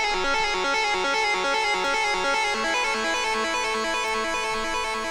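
A synth arpeggio from a preset pack repeats quick stepping notes in a steady loop for about five seconds, bright, dense and continuous with no voice over it.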